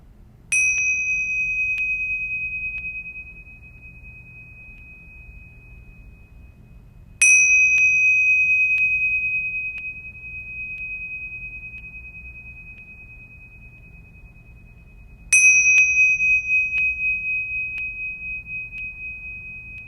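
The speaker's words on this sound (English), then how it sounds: "I'll ring the bells 3 times to end this exercise" Meditation bells struck three times, each a clear, bright ding ringing out and slowly fading over several seconds, spaced about seven to eight seconds apart in quiet surroundings.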